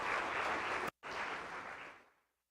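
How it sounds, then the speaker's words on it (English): Audience applause, a brief burst of steady clapping from a crowd that cuts out for an instant, resumes and fades away, quiet and with no speech over it. "So give yourselves a round of applause."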